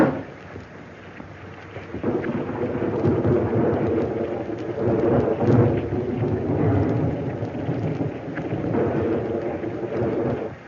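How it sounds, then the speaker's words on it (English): A heavy thunderstorm with steady rain, deep rolling rumbles of thunder swelling and fading over a constant wash of rainfall, loud and close, with no voices. "what a storm"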